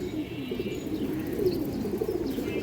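Female Rapankhi pigeon cooing close by, soft repeated throaty coos in a low rolling rhythm, with faint chirps in the background.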